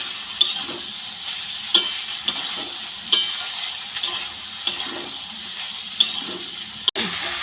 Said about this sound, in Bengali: সব মশলা দিয়ে আলু পেঁয়াজটাকে খুব ভালো করে ভেজে নেবো